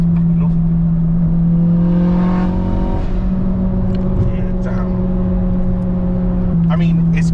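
A turbocharged Honda Civic FN2 engine idles with a deep drone, then its revs rise and fall in a brief surge before settling back to a steady hum.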